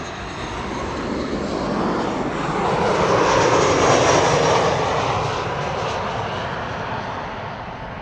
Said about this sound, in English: That is a 737-800.